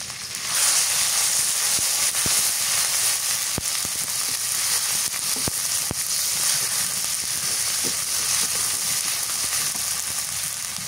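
Green chili, onion and garlic pastes sizzle in hot oil, giving a steady loud frying hiss with scattered sharp crackles and pops that runs unbroken for about eleven seconds.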